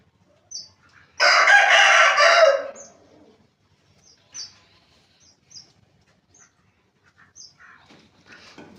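A rooster crows once, loud and close, in a long drawn-out call, right after a hen lays her first egg. Short clucks and small bird calls follow in quiet stretches.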